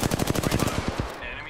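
Rapid automatic gunfire from Apex Legends, a tight burst of about a dozen evenly spaced shots over roughly a second, loud and close, ending in a brief tail.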